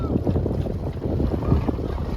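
A boat powered by a truck engine rumbles steadily at sea, a continuous low churning drone mixed with wind noise, close and moderately loud, without talking.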